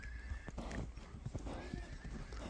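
Horses moving about at a horse sale, hooves clip-clopping in an irregular rhythm with a brief neigh, close and fairly loud over outdoor background noise.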